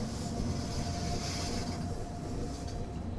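Simulated train rolling along the tight curves of the Bernina Line in Train Simulator 2020, a steady continuous rumble with a faint high squeal above it, close and unbroken throughout.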